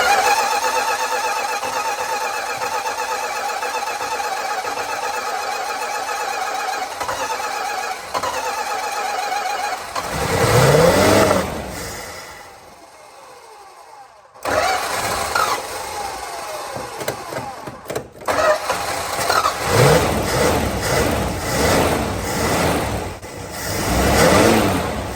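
A 1965 Plymouth Barracuda with its 273 V8 cranks and fires after a used fuel pump swap, catching with bursts of revving, dropping out briefly, then restarting and settling into a loud, uneven idle.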